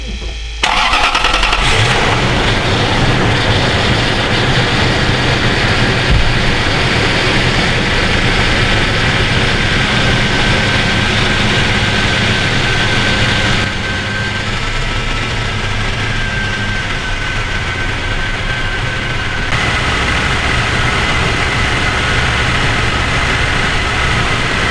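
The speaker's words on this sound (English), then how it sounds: "we're now ready to start it up" A Lexus LX470 V8 cranks and catches after power steering hose replacement, then settles into a loud, steady idle that runs on close by with a slight drop in level partway.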